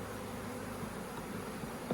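Honey bees hum and buzz in a steady, faint drone around an opened beehive whose colony has been split several times, with no talking.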